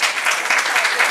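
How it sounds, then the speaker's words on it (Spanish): An audience applauds at a public talk in Guayaquil, with dense, steady clapping from many hands filling the whole moment at an even, fairly loud level. "otro aplauso, por favor."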